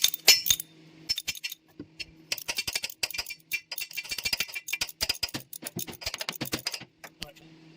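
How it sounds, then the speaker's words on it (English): A starter bolt comes out of a 1964 Chevy C20 truck, with sharp metallic clicks and clinks from a ratchet wrench in rapid irregular bursts, close and crisp against quiet. "I'll finish getting that bolt out, and then we'll take the rest of the starter out."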